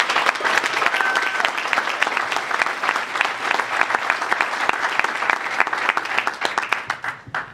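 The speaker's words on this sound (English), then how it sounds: "So let's give Sam a round of applause" A conference audience applauds at length, a loud, dense and sustained wash of clapping from many hands that thins into scattered claps and tapers off at the very end.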